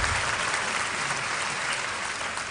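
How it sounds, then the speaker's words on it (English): A large audience applauds at a KNUST university congregation ceremony, a dense, steady burst of clapping from many hands, loud and close, with no talk over it. "Please applaud Her Excellency, Professor Nana Jane Opoku Ajiman."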